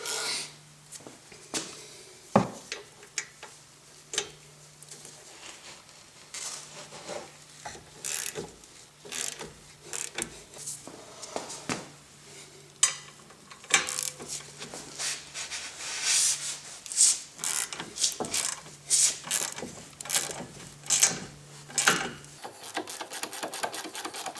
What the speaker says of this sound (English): we want to remove these 2 bolts back here, both 15 millimeters. These are what hold on the caliper.